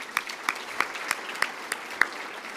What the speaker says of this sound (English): Let's give ourselves a clap for being here tonight.